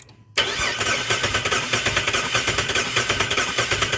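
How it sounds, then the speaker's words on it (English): A 2008 Jeep 3.7L V6 with a misfire cranks over after a brief silence, a loud steady rhythmic churning of the starter turning the engine that continues without catching, with no voices. "Go ahead and crank it."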